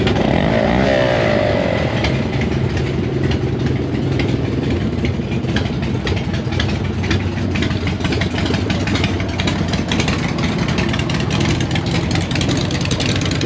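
A Honda Monkey motorcycle idles loudly nearby with a steady, slightly rough mid-pitched rumble that holds evenly throughout, with no talking.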